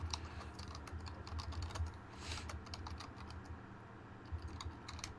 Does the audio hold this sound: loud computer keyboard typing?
yes